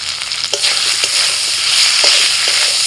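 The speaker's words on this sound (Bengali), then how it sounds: "আলুটা কিছুক্ষণ ভেজে নিয়ে ওর মধ্যে দিয়ে দিচ্ছি আদা কাঁচা লঙ্কা বাটা, লবণ, হলুদ গুঁড়ো, জিরে গুঁড়ো" Potatoes fry in a pan with ginger-green chilli paste, salt and ground spices, making a loud, close, steady sizzle with a few spatula scrapes and knocks.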